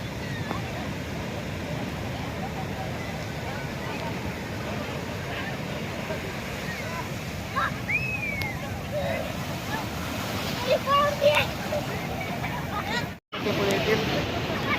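Sea waves on the shore at Ganpatipule beach in the rain, a steady broad wash of surf and wind noise, with children playing and distant voices talking over it.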